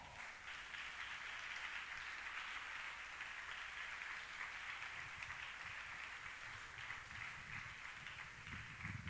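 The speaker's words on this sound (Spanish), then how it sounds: "Denle un aplauso a Cristo." A church congregation applauding during a sermon, a faint, steady wash of clapping that continues without a break and has no talk over it.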